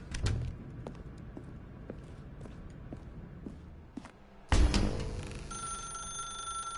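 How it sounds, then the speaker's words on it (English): Telephone ringing in the video game The Stanley Parable, repeated bell rings heard over soft footsteps in a quiet room, followed by a louder click as the receiver is picked up. "Alright, we're gonna answer the phone."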